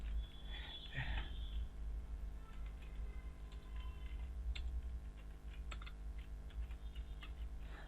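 A computer keyboard clicks softly as someone types a DISKPART command, the keystrokes coming in quick irregular runs against faint background hum.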